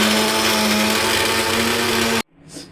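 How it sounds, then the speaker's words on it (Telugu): A kitchen mixer grinder whirs loudly and steadily as it grinds onions and green chilies into a coarse paste, then cuts off abruptly, leaving a faint rattle and a brief low sound after. "ఉల్లిపాయలతోనే అవి గ్రైండ్ అయిపోతాయి"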